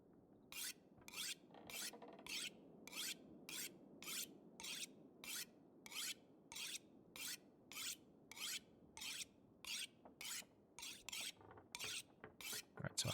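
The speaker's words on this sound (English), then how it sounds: "I need to sharpen that hatchet." A hatchet is sharpened on a whetstone in The Long Dark, about eighteen regular rasping strokes in a steady rhythm over a low ambient hum, close and clear with no talk.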